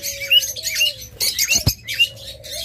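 Pet lovebirds or budgerigars in a cage chirping in short bright bursts, with a brief flutter of wings and a scraping knock in the middle, close and fairly loud.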